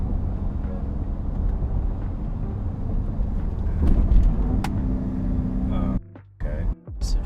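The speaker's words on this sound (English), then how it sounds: "I've never driven a car with a good paddle shifter" A car engine rumbles and builds as it accelerates, with quick changes as paddle-shifter gear shifts come through, then the sound drops off sharply near the end with a few brief bursts.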